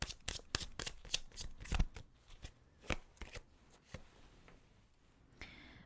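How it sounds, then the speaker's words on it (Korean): Tarot cards being shuffled and drawn, with a quick run of crisp riffling snaps followed by sparser card slaps and soft sliding handling. The sounds are close and fairly quiet, with no talking. "타로 카드로 2장 뽑아보겠습니다."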